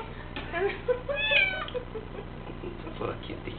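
A kitten meows several times in high, wavering cries, with a drawn-out call in the middle, while a person talks softly nearby.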